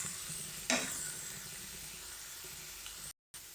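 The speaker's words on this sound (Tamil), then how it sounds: "இதையும் சேர்த்து வதக்கி எடுத்துடலாம். ஸ்டவ்வை மீடியமாகவே வச்சு வதக்குங்க." Pirandai (adamant creeper) sautéed and stirred in a pan over a medium flame for Tamil thuvaiyal, a steady close sizzle with a sharp scrape of the spatula early on and brief quieter gaps.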